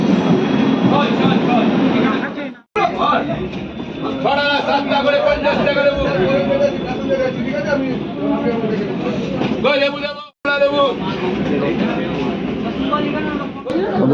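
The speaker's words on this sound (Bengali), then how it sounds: "চলে এসছে আমাদের শান্তিপুর লোকাল তার নির্ধারিত টাইমের থেকে তিন মিনিট লেটে" A Santipur local passenger train pulls into a station with a steady, loud rumble of rolling carriages throughout, broken by two brief dropouts, while voices talk over the train noise.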